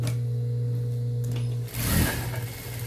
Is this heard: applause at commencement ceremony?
no